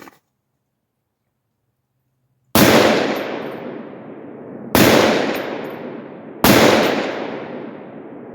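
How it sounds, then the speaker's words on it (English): An AR-10 rifle chambered in .308 and fitted with a muzzle brake fires three loud, sharp shots after a quiet pause. Each blast trails off into a long ringing echo, with roughly two seconds between shots. "So I'm gonna try and take 5 shots really fast."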